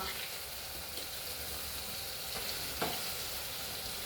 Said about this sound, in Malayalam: നമുക്ക് പുരട്ടി വെച്ചേക്കുന്ന ചിക്കൻ ഇതങ്ങ് ഇട്ട് കൊടുക്കാം